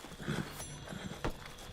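A horse's hooves clip-clop in Red Dead Redemption 2, a short patch of soft, uneven hoofbeats with a louder thump near the end, alone and without talk.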